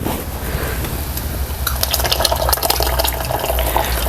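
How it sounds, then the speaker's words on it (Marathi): A jowar flour and water mixture is poured into a pot, giving a steady, close, splashing liquid rush that thickens and grows a little louder midway, with no talk over it. "हे ज्वारीचं पीठ आहे मस्तपैकी याला नाही आपण पाण्यामध्ये व्यवस्थित मिक्स करून घेतलेलं आहे आता आपण हे घालूया"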